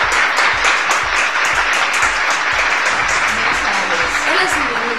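Audience applause from a university management-show crowd, a dense steady wash of many hands clapping throughout, loud and continuous with no speech over it.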